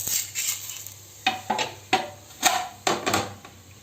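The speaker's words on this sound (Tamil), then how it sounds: "இப்போ அதை எடுத்து இந்த தட்டில் வைப்போங்க" Cooked ragi roti set onto a plate, producing a series of sharp clinks and scraping taps of utensil and plate, about eight distinct hits in irregular rhythm, close and fairly loud.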